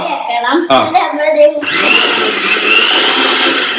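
A kitchen mixer grinder jar blends apple juice with chilled water, a loud, steady motor whir that takes over after a stretch of talk.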